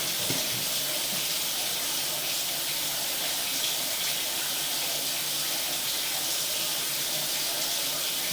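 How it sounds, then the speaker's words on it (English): Water runs steadily through a pipe liner in a house sewer line, a continuous broadband hiss and trickle with no pauses, fairly close and alone. "Looks like there's some water flowing anyway, just because of me pushing through."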